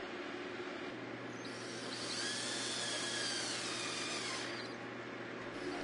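A power drill drives screws down through the bottom rail of a composite wood stair railing, a steady whirring motor whine rising for a few seconds over a constant low hum, close and alone.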